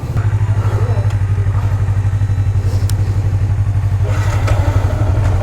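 A 2015 Yamaha FZ150i motorcycle idling close by with a steady low throbbing engine rumble and light mechanical clatter throughout, fairly loud.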